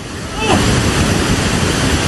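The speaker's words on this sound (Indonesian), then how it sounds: "Inilah luapan air Sungai Cikaret di Kelurahan Pasir Jaya, Kota Bogor, Jawa Barat." Flooded Cikaret River in Pasir Jaya, Bogor, West Java, rushing as a loud, steady broadband roar of churning water that surges up after a brief start and holds without pause.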